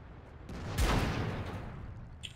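Gunfire in a multiplayer shooter video game: a burst of shots around the middle that swells loud, then fades into a low rumbling tail, with a faint click near the end.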